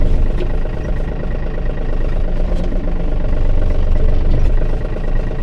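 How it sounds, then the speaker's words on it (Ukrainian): A Yanmar RS-330 compact diesel tractor engine runs steadily and loudly while driving, a constant low rumbling drone with no pauses. "Зараз вам демонструю, як тракторець повністю у нас їде, як працює гідропідсилювач."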